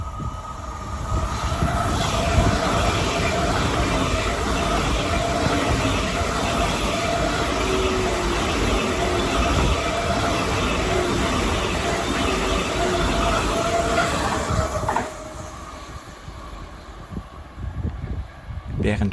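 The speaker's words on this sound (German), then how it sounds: "Während oben der ICE 4 fährt" An ICE 4 train rumbles past overhead at Amstetten station, a loud continuous rolling roar with faint wheel squeal heard from the underpass, easing off toward the end.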